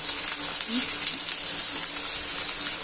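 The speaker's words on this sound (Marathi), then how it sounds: "बारीक चिरलेलो कांदो टाकलाय. लाल झालो, लाल गुलाबी होईपर्यंत भाजायचं." Finely chopped onion sizzling in a couple of ladles of hot oil, a steady close frying hiss with faint stirring scrapes, no talking over it.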